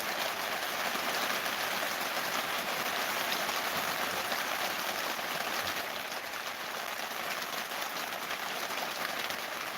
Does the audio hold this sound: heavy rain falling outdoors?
yes